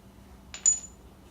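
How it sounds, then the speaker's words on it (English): Metal lug bolts for a car wheel clink together once as they are picked up, a brief bright jingle in an otherwise quiet moment. "Next step is to get your lug bolts that you took off."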